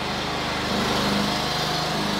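A lawn mower cuts the yard outside, its engine a steady, unbroken drone that holds at an even level, slightly muffled and alone, with no talking.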